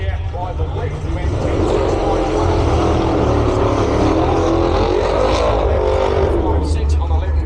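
Drag racing cars, a Plymouth Fury and a Mustang, roar past with a loud, sustained high-horsepower engine drone that swells and holds steady throughout, blended with broad crowd or track ambience.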